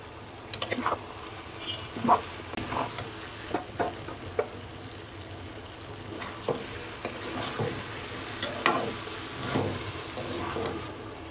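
Diced potatoes fry in ghee for an aloo baingan sana dish, a soft steady sizzle broken by scattered clinks and stirring scrapes, close by, with no talking.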